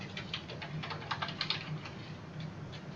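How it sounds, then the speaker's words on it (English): Steady typing on a computer keyboard, soft irregular key clicks at close range in a quiet room, with no talk. "I'm typing in Colonial Gold at the top, and it actually worked"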